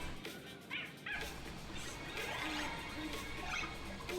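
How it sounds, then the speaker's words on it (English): A dog character in the video game Honkai: Star Rail gives a few faint, short, yippy barks and whimpers, set low under a constant game background mix. "I feel like the barking, it might be the dog."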